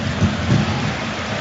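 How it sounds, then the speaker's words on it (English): Heavy rain pours down over a football stadium in the east end of Glasgow during a Europa League match, a dense, loud, continuous wash of noise with no break. "Rain comes pouring down in the east end of Glasgow as Schmeichel comes to the edge of the box,"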